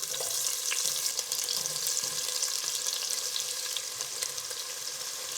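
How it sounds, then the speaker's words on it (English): Onions frying in hot oil for an onion masala chicken curry, a steady close crackling sizzle with soft pops and occasional stirring scrapes throughout, no voices. "the onions are prepped, I'm going to cook them until they're nice and golden"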